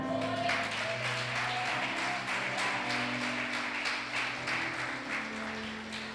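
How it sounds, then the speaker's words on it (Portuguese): A church congregation applauds during a worship service, sustained clapping spread across the room over a droning instrumental background. "Vamos aplaudir o Senhor."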